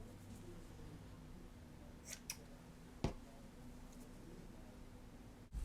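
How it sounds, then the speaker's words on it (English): Scissors make a few sharp, isolated snips while strips of paper are cut for handmade tags, with quiet pauses between the cuts in a calm room. "So I am just going to cut off 6 strips."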